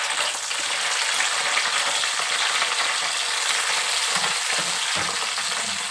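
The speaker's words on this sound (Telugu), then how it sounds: "నేనైతే పండు మిర్చి వేయించుకుంటున్నాను." Ripe red chillies frying in hot oil for a spinach chutney, giving a loud, steady, dense sizzle with faint occasional rattles underneath.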